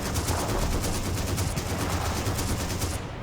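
Dense, continuous battlefield gunfire and cannon blasts from the World War II strategy game Men of War: Battleaxe, a steady roar of overlapping shots with no talk.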